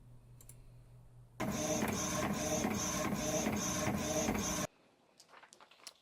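An inkjet printer whirs loudly into action for about three seconds, a steady mechanical drone with a faint repeating rhythm, then stops abruptly into quiet room noise.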